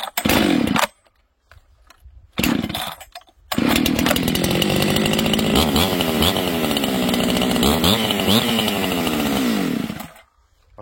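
A chainsaw on a cold winter day is pulled twice, each start sputtering out briefly, before it catches and runs with a loud buzzing, revving whine for several seconds and then cuts off.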